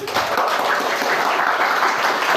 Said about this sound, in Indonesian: Kita berikan aplaus semuanya